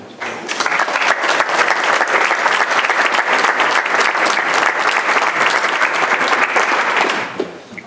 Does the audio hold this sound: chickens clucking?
no